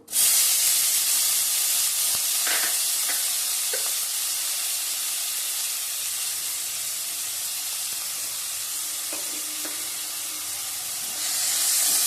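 Chopped onion hits hot oil in a pan, bursting into a loud, steady hiss and sizzle that holds close and constant throughout, with faint clinks of a utensil.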